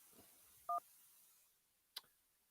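A single short electronic beep marks a caller connecting to a radio show's phone line. It is faint and quiet over a soft background hiss, and a brief click follows a moment later.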